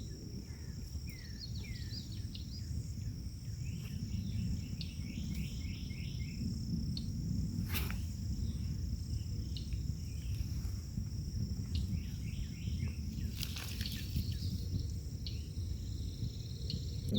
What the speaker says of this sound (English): You can hear all the frogs calling around me.